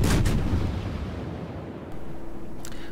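Heavy warship guns of the cruiser Prinz Eugen fire in World of Warships, a deep booming salvo at the start followed by rumbling decay and a second sharp report near the end.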